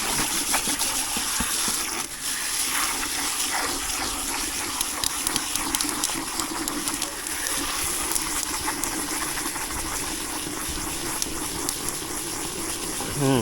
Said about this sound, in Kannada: ನೋಡಿ, ಇವಾಗ ನೀರು ಬಿಡೋದು ಇದಕ್ಕೆ.